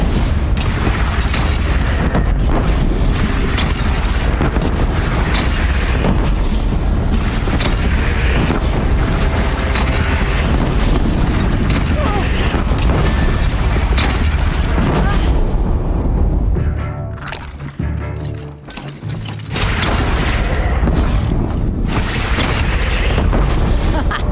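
Cannon fire in the Horizon Zero Dawn video game, a dense, loud barrage of booms and blasts rolling almost continuously, with a brief lull before resuming, heavy rumble throughout.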